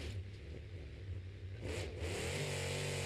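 The Terminal Velocity monster truck roars out of the gate at a Monster Jam show in Lamar, its engine revving hard and climbing to a loud, sustained howl as it lifts into a sky wheelie.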